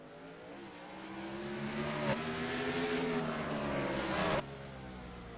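Simulated race cars lapping Sonoma Raceway in iRacing, a sustained engine drone whose pitch climbs as the cars accelerate, then drops abruptly near the end, with no talking.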